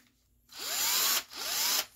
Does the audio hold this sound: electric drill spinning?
yes